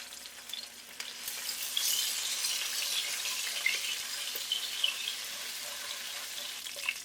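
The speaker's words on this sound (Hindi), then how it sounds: "ऑयल गर्म हो जाए तो इसके अंदर शामिल करेंगे जिंजर गार्लिक पेस्ट।" Ginger garlic paste and green chilli fry in hot oil for a chicken chow mein, giving a soft, steady crackling sizzle with scattered pops and light stirring scrapes, with no voices.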